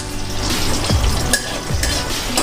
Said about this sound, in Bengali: আলুগুলো একটু ঢেকে ভেজে নেব ভালো করে।